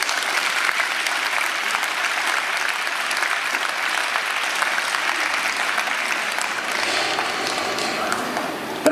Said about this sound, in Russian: Дорогие друзья, давайте аплодисментами встречать наших почетных гостей концерта